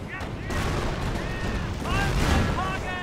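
Artillery fire and explosions in the World War II strategy game Company of Heroes, a rumbling barrage of booms and bursts rolling steadily under overlapping chatter from players.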